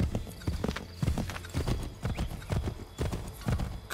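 Horse hooves gallop in Assassin's Creed 3 Remastered, a rapid, rhythmic clip-clop of repeated beats, close and loud, with a hint of a whinny.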